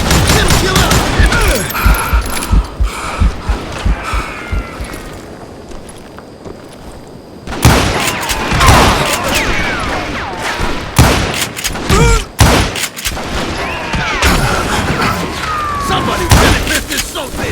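Heavy gunfire from a Call of Juarez Gunslinger shootout, with repeated sharp shots and volleys crackling through the scene, a brief lull midway, then dense bursts of firing resuming, with voices shouting among the shots.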